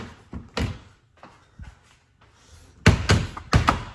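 Plastic trim clips on the front tray of a Tesla Model 3/Y are pried loose, giving a series of dull thunks and snapping knocks that cluster and grow louder near the end.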